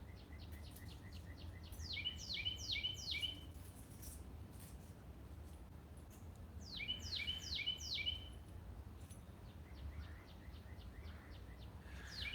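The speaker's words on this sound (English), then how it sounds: "They're having like a little bird versation." Two spring songbirds trade quick descending chirp phrases back and forth, bursts of rapid tweets alternating with pauses over a low outdoor rumble, clear and moderately near.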